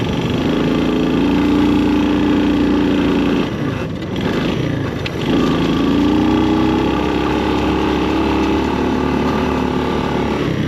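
A motorcycle engine converted into an off-road three-wheeler drones loudly and continuously at close range, its pitch wavering slightly as the machine rolls over bumpy ground, with a brief dip in the middle.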